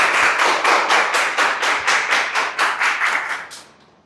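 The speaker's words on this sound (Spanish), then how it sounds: "un aplauso para nuestros primeros invitados de hoy, los auditores" A small group claps in a crisp, nearly unison rhythm of about a dozen strong beats for guest auditors at a university student event, then stops abruptly.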